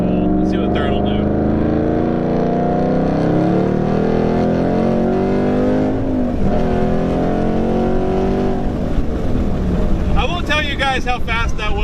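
A 600hp 2013 Roush RS3 Mustang pulls hard through third gear, its engine drone building steadily and loud, while two people talk over the cabin noise.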